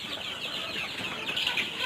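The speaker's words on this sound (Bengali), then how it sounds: "যে সবগুলা মিশরি ফাউমি মুরগি" A flock of Egyptian Fayoumi chickens clucking and murmuring together, a dense, continuous layer of bird calls at moderate distance, with no talking.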